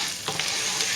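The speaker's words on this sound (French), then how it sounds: "On remue régulièrement le riz à risotto comme ceci pour qu'il soit" Risotto rice with small pieces of chicken frying in a pan, a steady close sizzle with brief scraping swirls of stirring, and no voices.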